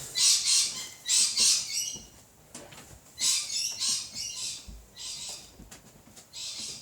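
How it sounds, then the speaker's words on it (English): Birds outside a window chirp in bright, rapid bursts, repeated trills coming in clustered phrases with short pauses between, fairly close and alone without talk. "Oh my god, the birds outside."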